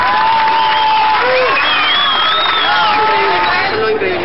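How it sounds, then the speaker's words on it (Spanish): Spectators at a South American athletics championship long jump event cheer and applaud athlete Paola Mautino, a loud, dense crowd roar with whistles and shouting voices rising over steady clapping throughout. "Los aficionados no paraban de aplaudir a Paola."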